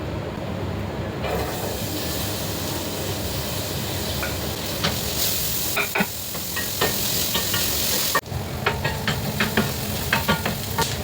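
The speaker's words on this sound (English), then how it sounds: "In the same pot, heat a little more oil and saute chopped onion until golden brown." Chopped onion sautéing in hot oil in a pot for a chicken masala, a steady loud sizzle with occasional stirring scrapes and clinks that grow busier toward the end.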